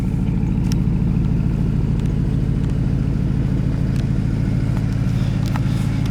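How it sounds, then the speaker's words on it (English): Porsche Panamera Turbo S E-Hybrid Sport Turismo idling or cruising, its exhaust giving a loud, steady low engine drone with a deep rumble that holds evenly throughout, faint clatter on top. "you start to hear the exhaust like a crescendo"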